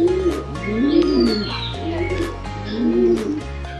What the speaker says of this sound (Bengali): এখানে দেখতে পাচ্ছেন কবুতর আছে, বিভিন্ন রকমের কবুতর